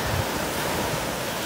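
Ocean surf at the beach in Gulf Shores, a steady broadband wash of waves with some wind buffeting the microphone, continuous and fairly loud over a brief stretch.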